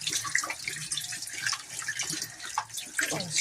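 Running water from a tap splashing over seeds being washed by hand, a steady close hiss with small irregular splashes and drips, fairly quiet, no talk.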